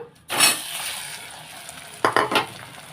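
Grated potato hits hot oil in a wok with chili and turmeric powder, a sharp hiss and sizzle bursting in then settling, followed by a few quick stirring scrapes near the end.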